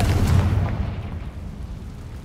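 A Confringo explosion spell goes off in Hogwarts Legacy: one loud, booming burst up front, then a rumbling tail that slowly dies away.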